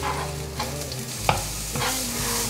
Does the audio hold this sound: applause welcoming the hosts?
no